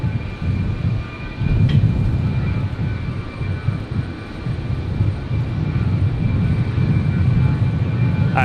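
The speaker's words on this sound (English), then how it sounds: "Is that the Fokker again doing another run-up? Yep. Very loud, these things, eh?" A Fokker propeller airliner holds a loud engine run-up at Brisbane airport, a deep steady rumbling drone with a faint whine, continuous and fairly close, heard alone.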